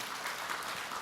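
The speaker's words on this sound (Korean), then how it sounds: "박수로 맞으세요." Brief burst of audience applause in a studio during a televised Buddhist monk's question-and-answer program, soft and steady for about a second with no talking over it.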